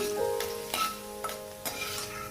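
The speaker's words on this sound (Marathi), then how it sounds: "ती मिरची अशी तडतड तडतड उडते" Pieces of green chilli fry in hot oil, giving a steady sizzle broken by several sharp crackles and pops at uneven intervals. The sound is close and moderately loud, with no voices.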